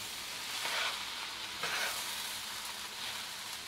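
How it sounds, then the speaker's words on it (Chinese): Rice dumpling filling with seasoning stir-fried in a wok: a steady loud sizzle with the scrape and toss of stirring rising twice, no voices. "东西都炒香之后，"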